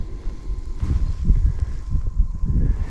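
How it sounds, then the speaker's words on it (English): Wind blows across open ice during an ice-fishing outing, a low rumbling buffet against the microphone that swells and gusts unevenly throughout. "It's a little windy today."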